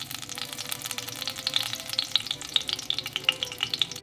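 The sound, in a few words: salmon sizzling in cast iron skillet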